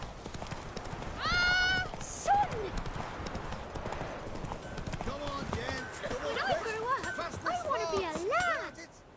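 A horse gallops with rapid, steady clip-clop hoofbeats in The Witcher video game, close and continuous, while voices talk over it and game music plays.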